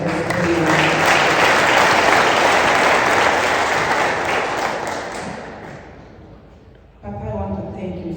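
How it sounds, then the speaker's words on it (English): A crowd claps loudly and steadily, the applause gradually fading before a voice begins speaking over the last of it. "give a very big round of applause to Papa Emorimo"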